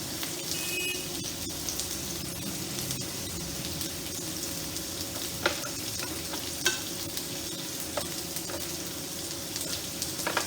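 Potatoes and pointed gourd sizzle and crackle in a pan with a steady hiss, broken by a few sharp clinks of a utensil against the pan.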